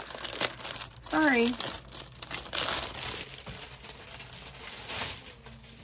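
Plastic packaging crinkles and crumples as a parcel from a banner swap is unwrapped, in bursts of rustling with a brief voice and speech around it.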